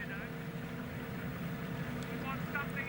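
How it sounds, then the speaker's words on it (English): Steady low engine drone of a small pleasure motorboat cruising on open water, with faint splashing and a few brief voices in the background. "We're on a boat. A small one. Probably a pleasure craft."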